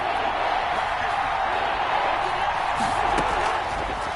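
A football video game stadium crowd roars steadily as a big third down approaches, forming a dense, continuous wash of cheering that neither swells nor drops.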